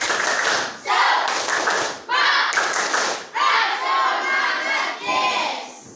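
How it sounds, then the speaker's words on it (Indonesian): Sixth-grade pupils repeat the 'tepuk semangat' spirit clap more forcefully, loud rhythmic clapping bursts mixed with shouted group chanting in patterned phrases inside a classroom. "Kurang semangat. Tepuk semangat."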